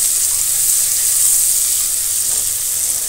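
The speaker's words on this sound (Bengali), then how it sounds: "এবার আমি পেঁয়াজ কুচিটা সুন্দর একটা কালার আসা পর্যন্ত নাড়াচাড়া করে ভেজে নিয়ে নেব।" Chopped onions sizzle steadily in a hot pan, a continuous close, even frying hiss with no pauses and no talk.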